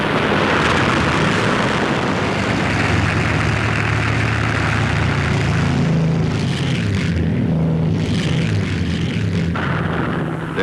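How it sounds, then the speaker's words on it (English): WWII Luftwaffe propeller aircraft fly over in a massed formation, a loud, continuous, droning engine roar that fills the air without a break, steady and close. "A scratch collection of over 800 aircraft has taken off from German airfields in the early morning."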